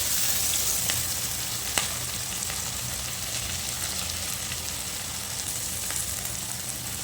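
Curry leaves fry in hot oil for a chicken gravy, giving a dense, even sizzle throughout with a few faint crackles and pops.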